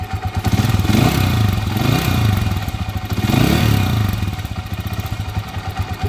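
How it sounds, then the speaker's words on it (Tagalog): A motorcycle engine runs rough with a loud, close, clattering knock, swelling in repeated revs before settling back to a ragged idle. "Ito naman yung magaspang malagitik ang andar kanina, lalong-lalo na pag nire-revolusyonan"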